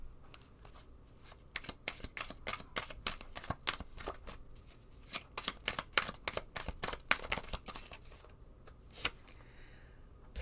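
A deck of blessing cards is shuffled in rapid, repeated riffles, a crisp fluttering clatter in quick bursts with brief pauses, fairly quiet and close.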